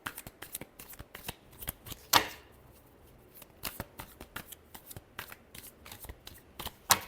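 A deck of tarot cards is shuffled by hand in close, crisp bursts of riffling flicks and soft slaps, with short pauses between them.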